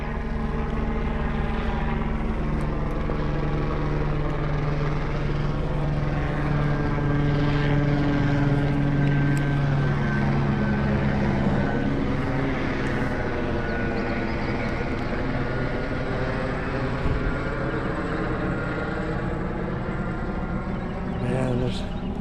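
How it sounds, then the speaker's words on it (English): A search helicopter drones steadily overhead during Texas floods, with a throbbing rotor hum whose pitch slowly shifts as it passes, loud and continuous. "Looks like it might be one of the heat-seeking helicopters searching for people."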